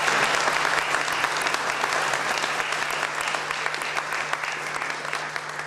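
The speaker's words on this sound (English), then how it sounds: "let's give them one rousing round of applause" A crowd at a city hall grand opening breaks into steady, full applause that holds at an even level throughout, with a faint low hum underneath.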